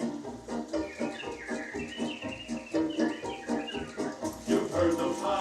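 Chirping, warbling animatronic bird voices in Disneyland's Enchanted Tiki Room sing together in a lively, musical chorus, fairly loud and continuous with busy fluttering whistles throughout.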